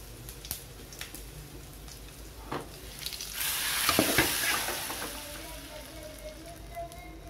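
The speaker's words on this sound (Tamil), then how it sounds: "இப்போ இதை எடுத்து சாம்பாரில் கொட்டிக்கலாம்" Chilli and shallot tempering poured into sambar hits with a soft sizzle that swells in the middle of the clip and then fades, following a few faint clinks.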